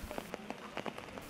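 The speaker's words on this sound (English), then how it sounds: "heavy downpour in the past 1 week damaged roadways and uprooted trees in Shimla in" Heavy monsoon rain in Shimla, Himachal Pradesh, patters on a hard surface in quick irregular taps over a steady wet hiss, close and fairly loud with no talking.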